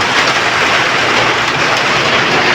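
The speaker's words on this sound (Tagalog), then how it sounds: "Nakauwi na tayo at walang tigil ang ulan." Heavy, unrelenting rain pours down at home in a dense, loud, even hiss with no breaks and no voices.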